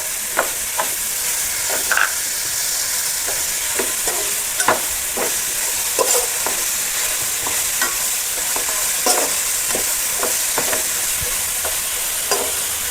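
Chopped capsicum stir-fries in a pan for vegetable fried rice: a constant close sizzle broken by regular scraping clinks of the stirring spoon.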